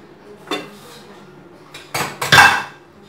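A home pressure cooker being opened after its whistles have fully released, with close metallic clanks and clinks of the lid and pot, a soft knock followed by a louder cluster of scraping metal contacts.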